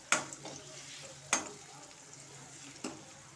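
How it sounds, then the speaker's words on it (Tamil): Chana dal tipped into hot oil for coriander rice, heard as three separate sharp clatters with brief sizzle bursts spaced about a second apart, fairly quiet against a low steady background. "நான் கடலைப்பருப்பு சேர்க்குறேன்."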